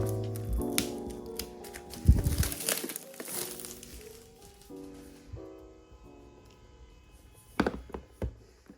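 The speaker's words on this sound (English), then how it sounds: "So let me unwrap it." Plastic wrapping being crinkled and torn off a 2023 Everyday Niceness Calendar, with close, uneven rustles, a sharp rip and a few soft handling thumps, no talking.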